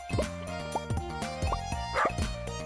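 A dog in the farming game Stardew Valley barks and yips repeatedly in quick, excited bursts over steady game music.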